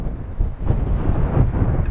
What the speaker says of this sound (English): it is incredibly windy